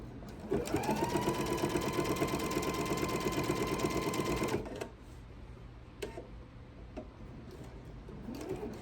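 A sewing machine stitches fabric for a tree skirt in a steady, fast mechanical run lasting about four seconds, then stops, leaving faint handling clicks and low room hum.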